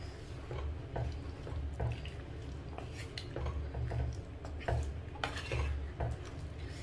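A village-style chicken curry with added water is stirred in a pot, producing repeated scraping and knocking of a utensil against metal in an uneven rhythm, with soft bubbling underneath.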